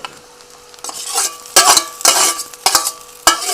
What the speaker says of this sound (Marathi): आपण हा शिजवून घेतलेला बटाटा टाकायला लागले मी त्याच्यात